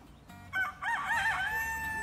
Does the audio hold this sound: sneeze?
no